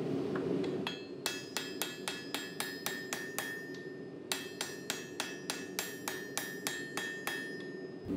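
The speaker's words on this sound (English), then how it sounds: "I decided to fix them with my hand hammer" A hand hammer strikes a Damascus steel billet to fix forge welds, delivering steady ringing metallic blows in two rhythmic bursts separated by a short pause, loud and close.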